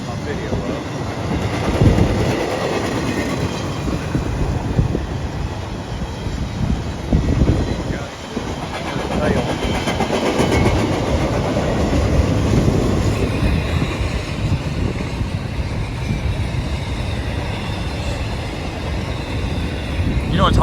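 A CSX freight train rolls past on the L&N line, its heavy rumble and rattling wagons loud and close throughout with only slight swells in level.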